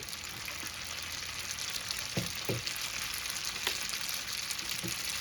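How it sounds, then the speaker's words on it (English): Pasta being tossed in a pan with garlic and bacon, a continuous quiet frying hiss with a few dull knocks and scrapes of the pan and utensil, close by and without talk. "just going to get that all tossed in and coated with that garlic and the bacon"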